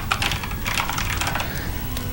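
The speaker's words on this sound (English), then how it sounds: "we're typing a lot today" Fast typing on a computer keyboard produces a continuous flurry of close, crisp key clicks with uneven rhythm and no talking.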